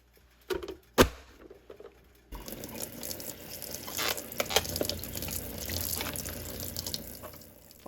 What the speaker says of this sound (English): you want to make sure you're using a gentle stream of water